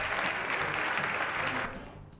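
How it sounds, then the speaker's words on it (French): A studio audience on a French TV talk-show set applauds steadily, a dense wash of clapping that holds strong and then begins to fade at the end. "Oui, tu peux t'applaudir, Karin."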